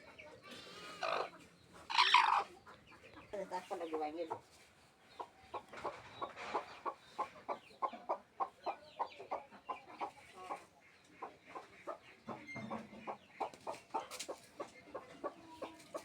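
A desi hen settling to lay eggs clucks close by in a quiet setting, giving a long run of soft, rhythmic clucks with a few louder squawks near the start and no talking.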